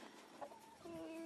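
Chickens in a rooster pen at a poultry setup, with a few faint clucks and a brief higher call near the end, heard at a distance over low background noise.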